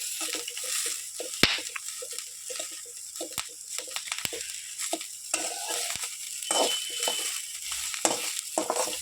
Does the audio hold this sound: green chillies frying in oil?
yes